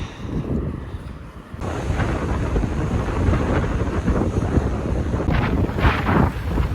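Strong wind on Jeju Island roars loud and close against the microphone in a continuous buffeting rush, with gusts rising and swelling throughout.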